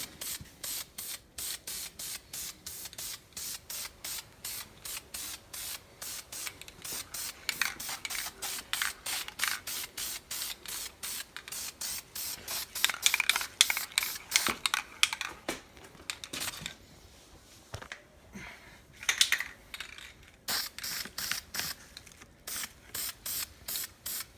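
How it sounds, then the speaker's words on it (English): VHT flameproof header paint being sprayed onto an exhaust manifold from an aerosol can, in a rapid series of short hissing bursts that repeat steadily at close range, with no talking. "I'm using the VHT flame proof header paint, and after I give it a good couple coats"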